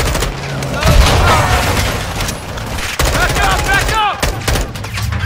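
Dense gunfire in the Call of Duty: Modern Warfare 2 video game, loud overlapping rapid shots and bursts throughout, with soldiers shouting over the firefight.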